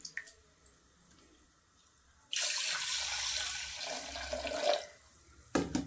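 Pearl millet grains being rinsed in water for a traditional millet porridge: a sustained splashing, swishing wash that starts abruptly after a quiet lead-in and runs for about two seconds, then stops, with a brief clatter at the end.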